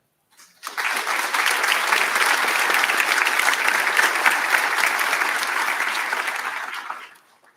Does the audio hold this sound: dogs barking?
no